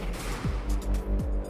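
Two cannon blasts ring out in the Redcon naval-artillery game, one around the middle and another a moment later. Each is a loud, booming shot with a falling tail, heard over continuous game noise.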